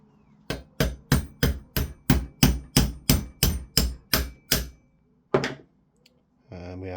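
Thirteen evenly spaced, sharp hammer taps ring out as the main pin is driven into an LCT PP19 airsoft gun, followed by one more tap after a pause and a brief voice at the end.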